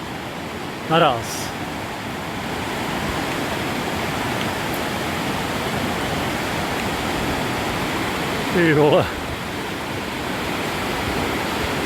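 A swollen river rushes beneath a swaying footbridge on Sawmill Pass, a steady, loud roar of water with no break, while someone speaks two brief exclamations over it.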